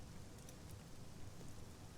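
Light drizzle of rain in Sunless Skies, a faint, steady hiss of fine patter that continues evenly throughout with no other sounds standing out.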